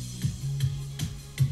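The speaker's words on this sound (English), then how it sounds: "You can also use the metronome, so you can hear the beat hitting." FL Studio metronome ticking on each beat: four evenly spaced sharp clicks about 0.4 seconds apart over a steady low electronic tone, crisp and close.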